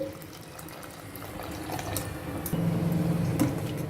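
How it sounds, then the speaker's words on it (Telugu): Water splashes and trickles as it is poured into a pot of sambar with tamarind juice, fairly quiet and growing a little fuller toward the end. "ఇంకొక పెద్ద గ్లాస్ నీళ్ళు వేశాను"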